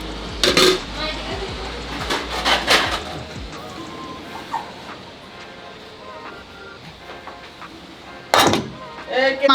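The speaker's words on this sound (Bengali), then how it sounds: "মাছের পাতিল আমি আনতেছি" Metal cooking pots clank and rattle as they are carried and set down on a table at a home meal, loud and close in several clustered bursts, with cutlery clinks and household voices in the background.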